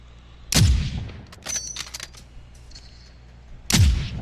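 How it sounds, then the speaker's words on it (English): Gunfire in a video game shooter: two sharp, loud shots about three seconds apart, each with a booming decay, with softer game effects and a few faint tones in between. "And Fly shooting at a guy right there behind that white building."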